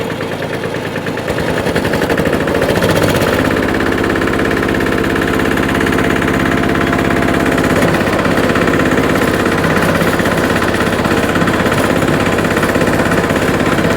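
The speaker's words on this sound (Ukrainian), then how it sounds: "Набираємо обертів. Оберти буду десь вище середнього, але не максимально." A Japanese rotary tiller engine revs up from idle to a steady, loud, rough mechanical roar with rapid firing pulses, held above mid throttle while cutting cabbage biomass, continuous and close with no talking.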